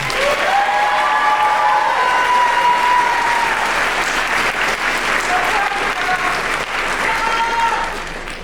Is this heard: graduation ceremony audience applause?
yes